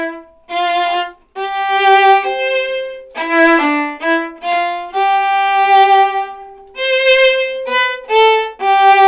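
A solo viola plays a slow, singing melody from Martini's Gavotte, with sustained notes and short breaks between phrases, clear and close.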